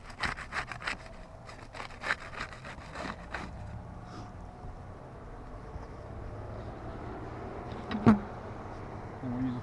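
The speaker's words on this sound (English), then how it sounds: "We'll use the putty knife to unseal the top shingles here." A putty knife pries up and unseals the sealed top tabs of roof shingles, giving scraping, rubbing bursts over the first few seconds, then a quieter stretch and one sharp crack near the end.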